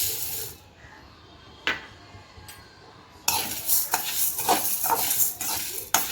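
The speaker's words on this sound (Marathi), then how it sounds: "आणि हरभरा डाळ भाजूया।" Rice and chana dal being dry roasted in a pan, with scraping and stirring scrapes of a utensil against the metal, sparse at first and then busier and continuous in the second half, close by with no talk.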